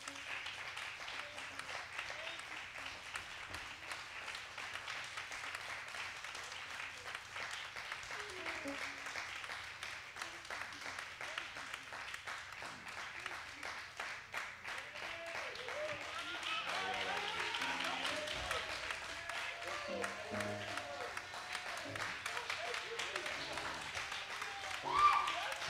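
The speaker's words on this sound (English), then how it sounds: "Clap your hands with Jesus in here." Quiet, continuous applause from a church congregation during a service, a steady wash of many hands clapping with voices talking and calling out over it, swelling slightly toward the end.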